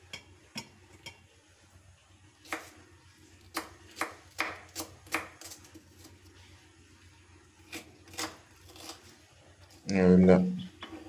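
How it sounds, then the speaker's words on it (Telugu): Knife chopping onions and chillies into small pieces on a kitchen board for an onion egg pulao, a series of irregular close taps and cuts spread across the clip, ending with a short loud burst of voice. "ఇలా కట్ చేసుకోండి చిన్న చిన్న ముక్కలుగా."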